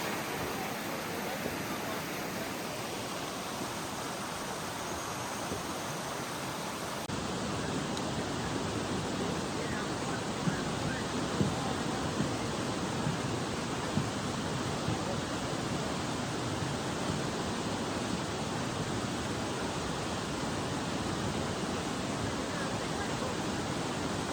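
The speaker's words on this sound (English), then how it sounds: "One last look at Caribou Creek." Caribou Creek flows steadily along the Resurrection Pass Trail, a continuous broadband rush of water heard close and alone, slightly louder after the first few seconds.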